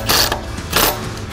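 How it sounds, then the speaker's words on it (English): Impact gun briefly spinning lug nuts onto a Porsche wheel while a spare tire is fitted, giving two short loud whirring bursts close by. "take our impact gun and just spin these guys on to where they stop"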